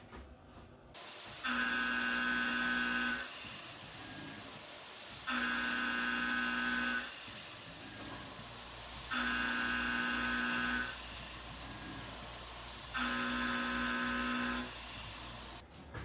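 A machine cuts tool steel at 50 thousandths depth of cut, producing four repeated, evenly spaced passes of high-pitched whining, hissing cutting noise over a steady motor hum.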